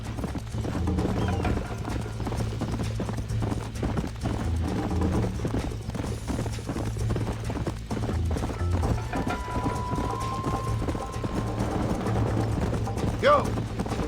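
A horse gallops in Red Dead Redemption with fast, steady clip-clop hoofbeats close by, under game dialogue, with a brief whinny near the end.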